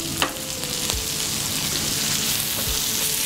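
Chopped tomatoes hit a hot tava with capsicum for quick Indian rice, setting off a loud, steady sizzle with a few soft clinks as they are stirred.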